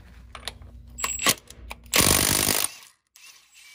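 Clicks and rattling tool noises build up, then a loud, harsh burst of a pneumatic impact wrench hammering a flywheel bolt off an RZR engine for under a second, followed by quiet.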